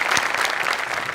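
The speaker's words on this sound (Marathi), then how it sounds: "जोरदार टाळ्या." A live comedy show audience bursts into loud, dense applause, a continuous roar of many hands clapping at once, brief and sustained from start to finish.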